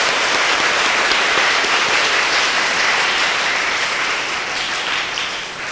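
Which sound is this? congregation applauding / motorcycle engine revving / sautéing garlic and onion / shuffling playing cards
congregation applauding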